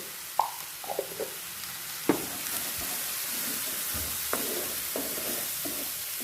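Onions fry in a pan with chili powder and turmeric, a soft steady sizzle punctuated by several sharp stirring scrapes and clinks of a spoon against the pan.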